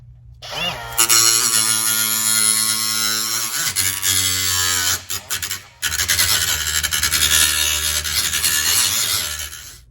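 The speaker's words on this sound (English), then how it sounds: "now I'm just going to kind of grind this down just a little bit" A grinder works down a metal plate in a C4 Corvette transmission tunnel, a harsh high-pitched whine and rasp in loud bursts with brief pauses and pitch drops as the tool bites and lifts.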